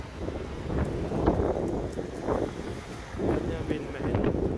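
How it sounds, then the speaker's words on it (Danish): On a cold spring walk through town, gusty wind buffets the microphone with a steady low rumble and rushing swells that rise and fall for the whole stretch. "Og det er lidt vindigt i dag, og så lidt koldt, ja."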